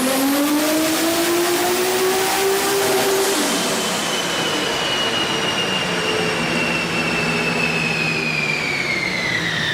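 A turbocharged Toyota Supra running hard on a dyno, its loud engine note rising steadily in pitch then holding a sustained high-rev roar with turbo whine, close and continuous without talk.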